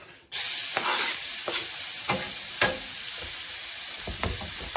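Onions hit a hot frying pan and burst into a loud, steady sizzle, with occasional scraping and stirring clicks over the crackle.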